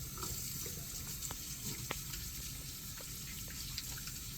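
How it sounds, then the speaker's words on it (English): Hands are washed under a running tap before an indwelling catheter procedure, a soft, steady stream of water with small splashes and rubbing, faint and continuous with no talk. "I'm going to wash my hands to begin"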